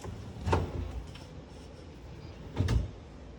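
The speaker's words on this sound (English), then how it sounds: "Sometimes you gotta give them a little push, but the cabinets are all self-closing." Self-closing kitchen cabinet doors shut twice in a quiet room, each a soft muffled thump about two seconds apart.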